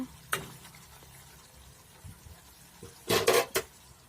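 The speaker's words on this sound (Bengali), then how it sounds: "এখন ভেজে রাখা চিংড়ি দিয়ে দেব। ভালো করে ভেজে নেব।" Prawns fry in a pan while a utensil stirs them, with a quiet background hiss broken by a sharp metallic clank early on and a burst of scraping and clattering near the end.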